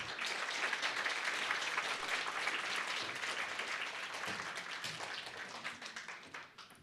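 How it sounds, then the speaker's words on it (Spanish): A congregation at a Sunday church service gives a loud round of applause to send off a singing group, dense clapping that holds steady for several seconds, then thins and fades toward the end. "los despedimos con un fuerte"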